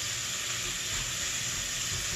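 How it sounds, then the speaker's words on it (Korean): Garlic stir-frying in a hot pan gives off a steady, even sizzling hiss that runs without a break, with no voices over it. "마늘이 이렇게 지글지글 익어갈 때쯤까지 계속 볶아줍니다"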